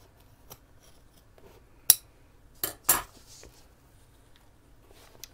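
Scissors trimming a fabric seam at the top of a handmade bag, three or four crisp close snips in a quiet room, separated by short pauses.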